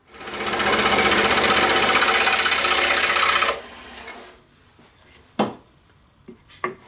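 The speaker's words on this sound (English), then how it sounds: "I'm going to take it over to the scroll saw and we'll just cut just to the outside of this line" A scroll saw cuts wood close by, loud and steady for about three seconds before it stops, followed by a few sharp knocks and clatters in a workshop.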